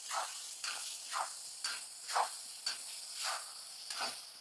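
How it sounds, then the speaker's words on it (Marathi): Ginger, garlic and green chili paste frying with tomato in a pan, a quiet continuous sizzle broken by about eight regular scraping stirs, close and soft. "अद्रक लसूण पेस्ट व्यवस्थित आपण कच्चापणा जाऊस तर फ्राय करून घेऊ."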